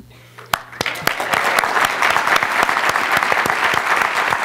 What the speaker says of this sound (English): I hope he hears this applause